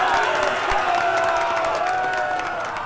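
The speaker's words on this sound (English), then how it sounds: "Applause, mesdames and messieurs!" A crowd cheers and claps together in a steady, dense wash of noise, with scattered whoops rising above the applause, in the Enderal game.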